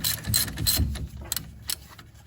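A ratchet undoing a car subframe bottom bolt during a subframe removal and re-bush, with rapid clicking pawl bursts up close, then a few separate sharp clicks and no talking.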